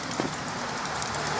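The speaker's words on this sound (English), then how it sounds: "it's now pouring down again" Heavy rain pours down outside a workshop, a dense, steady hiss of drops on surfaces with no pauses and no talking.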